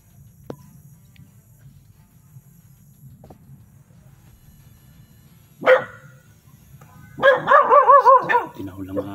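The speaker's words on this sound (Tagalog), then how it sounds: "Tinahol ang mga aso, tol." Faint crickets under a quiet background, then a dog barks once and several yelping barks follow at a moderate distance.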